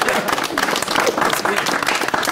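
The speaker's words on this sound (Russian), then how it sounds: "Сорвали овации" An audience breaks into applause: a dense, steady wash of many hands clapping that fills the whole moment, with voices mixed into the noise.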